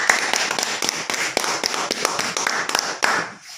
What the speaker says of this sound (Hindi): मैं चाहूँगा घनश्याम जी के लिए एक जोरदार ताली हो जाए